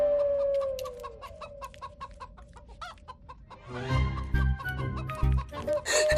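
A hen clucks in a series of short, repeated calls over the first few seconds, then the sound turns busier and louder with clattering and rustling, with no speech.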